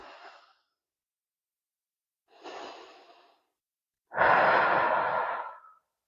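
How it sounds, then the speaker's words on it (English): Three slow, deep breaths separated by silence: two shorter, softer airy exhales, then a longer, louder and fuller sigh-like breath, all close to the mic with no speech. "Take a few deep breaths."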